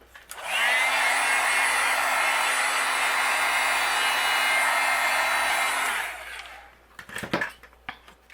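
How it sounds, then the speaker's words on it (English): A heat gun runs steadily for about five seconds as it melts white embossing powder over stamped butterfly images on a card, giving a close whooshing blower hum that cuts off abruptly, followed by light handling clatter. "And then we'll use our heat gun and I'll melt it."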